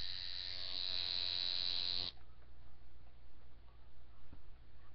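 An Image and Design tattoo machine runs with a steady, close electric buzz for about two seconds, then cuts off abruptly, leaving a quiet room.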